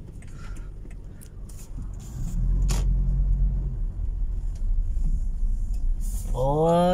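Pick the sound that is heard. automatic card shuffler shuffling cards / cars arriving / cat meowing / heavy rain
cars arriving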